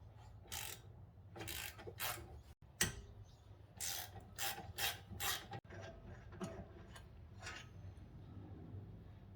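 A wrench ratchets off 13mm brake bolts on a 2010 Audi B8 S4, giving quiet, close bursts of rapid clicking with short pauses between strokes.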